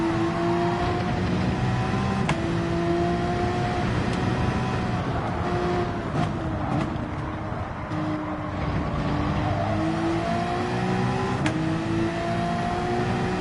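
A McLaren race car engine in the Gran Turismo video game drones steadily and loudly throughout, its pitch rising and falling with revving and gear changes.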